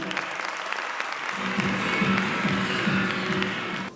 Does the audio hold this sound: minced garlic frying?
no